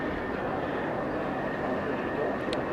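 Aircraft taxiing at Okinawa airport, a steady broad engine rumble and whine heard from a distance, continuous and even throughout.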